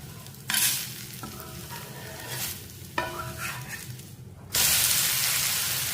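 Flatbread sizzling in sesame oil on a hot pan just after being flipped, a steady frying hiss that swells sharply near the end, with no talking.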